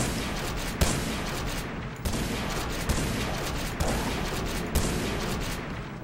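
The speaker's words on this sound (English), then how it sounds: "I've never tried the shotgun." Repeated booming shotgun blasts fire roughly once a second in the video game Action Alien, each loud shot followed by a dense, rumbling tail, with no talk over them.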